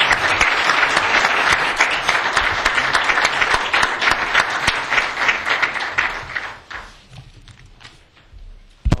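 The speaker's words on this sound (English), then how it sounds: "let's give them a round of applause." Audience applause closing a law school panel on sports eligibility, dense steady clapping from a crowd that holds for about six seconds, then thins out and fades to a few scattered claps.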